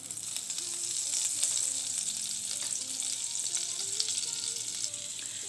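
A tablespoon of butter sizzles steadily in hot sunflower oil in a pan, a close, even frying hiss with light crackles, and no talk.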